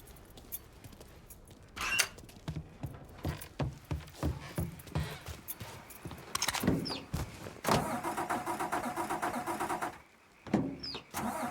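A car engine starting in the video game Mafia III, cranking and catching into a steady mid-pitched running engine, heard close over a busy background of other sounds.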